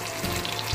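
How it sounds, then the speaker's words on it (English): Milkfish (bangus) frying in hot oil on high heat, with moisture still in the fish: a steady, close crackling sizzle that runs through the whole short moment with no talk. "And now still you can hear some sound. That means there's still that water"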